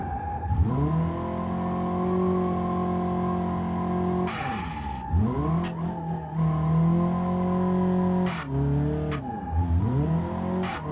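A Volvo 740 Turbo drift car in BeamNG Drive revs hard and steadily through tight technical sections. The engine note holds loud and close, dropping sharply and rising again at each shift or lift, with brief tire squeal.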